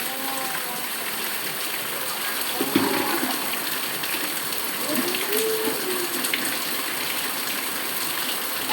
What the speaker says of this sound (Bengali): বৃষ্টির অভাব নেই, জলের অভাব নেই